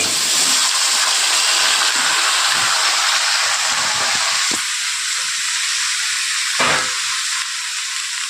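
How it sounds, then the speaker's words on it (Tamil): Steady loud sizzling and hissing from a hot pan of sautéing vegetables and dosa batter, with faint stirring scrapes and a brief clatter partway through. "இந்த பக்கம் இது லைட்டாக வதங்கட்டும் இந்த பக்கம் தோசை ஊற்றலாம்"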